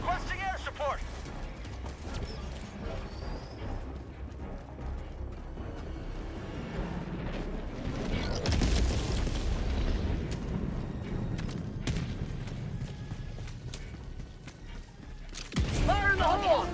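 Airstrike explosions called in during the video game Helldivers 2, a long rolling barrage of deep booms and rumbling blasts that swells midway and hits again near the end, with game voices speaking over it.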